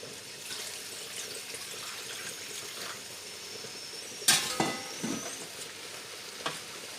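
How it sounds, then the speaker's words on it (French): Broth poured into a pan of sizzling turkey osso buco, a steady frying hiss with splashy liquid bursts partway through that trail off, close and moderately loud with no talk. "je vais ajouter mon bouillon"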